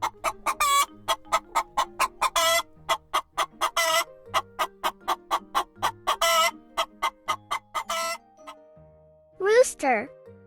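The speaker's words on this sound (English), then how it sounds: "chicken." A chicken clucks in a rapid, regular run of sharp, close clucks with a few drawn-out squawks mixed in, ending with a short musical whoosh; no talking.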